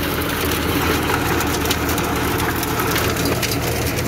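A John Deere 5045 tractor, 46 hp, runs a Sonalika rotavator through an onion field, its engine drone steady and loud, with a dense mechanical churn and rattle carrying on without a break.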